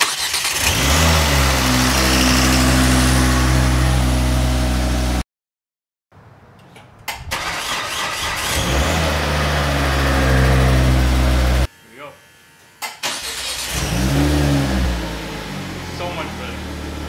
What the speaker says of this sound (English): let's go ahead and start the car up and see if everything's good to go